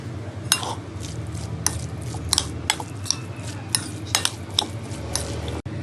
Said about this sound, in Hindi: इसे अच्छी तरीके से पहले मिक्स कर लेंगे